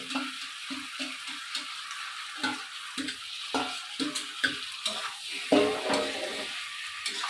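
Duck meat with ash gourd pieces and spices being slowly stir-fried in a pan, with a steady run of scraping spatula strokes over a soft sizzle, close and moderately loud.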